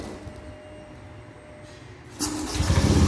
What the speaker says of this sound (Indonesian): Kalau semprot tuh caranya cuma kita menghidupkan mesin.